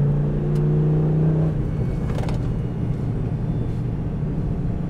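A 2004 Dodge Ram SRT-10 truck with a six-speed manual drives with a steady, loud engine drone, a deep tone holding then shifting lower partway through, continuous and close with no talking.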